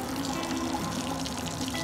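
Steady rushing water drains from the side fill valve of a Hagie sprayer, a constant broadband gush with a low tonal hum underneath, close and fairly loud throughout.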